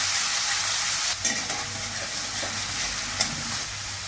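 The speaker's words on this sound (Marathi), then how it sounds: "कढईमध्ये तेल घेतले, त्यामध्ये आपण वाटलेली मिरची टाकूया। गॅस बारीक केलाय, परतून घेऊया छान।" Ground green chili paste fries in oil in a kadai over low heat, making a close, steady sizzle and hiss with a couple of brief stirring knocks.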